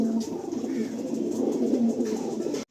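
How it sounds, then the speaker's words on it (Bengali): Andhra breed pigeons at a loft coo in soft, throaty, repeated bursts, close and continuous, with a few faint voices in the background. "ডাইরেক্ট আন্ধ্রা থেকেই আনানো পায়রা"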